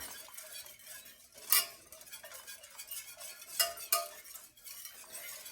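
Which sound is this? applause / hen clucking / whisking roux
whisking roux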